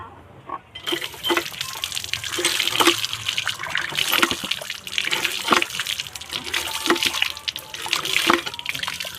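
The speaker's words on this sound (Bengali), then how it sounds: "আমাদের এই কলের থেকে জল দিয়ে আলুটা ধুয়ে নেওয়া হবে।" Water runs steadily from a kitchen tap as potatoes are washed under it, a close, continuous splashing broken by irregular knocks and clatters from handling the potatoes.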